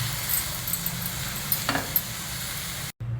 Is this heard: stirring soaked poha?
yes